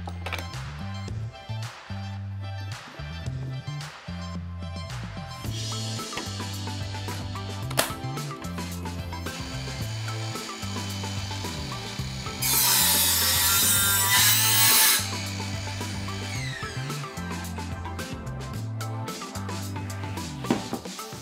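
A Ryobi 18V cordless 190mm compound sliding mitre saw cuts wood at a 45-degree bevel, with repetitive close mechanical rasping and a loud, harsh burst as the blade passes through the board.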